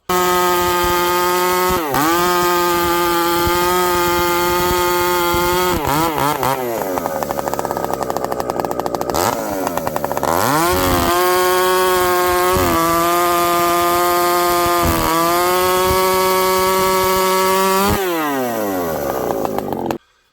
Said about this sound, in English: Well, we ended up with a 90cc saw that's fast and smaller wood.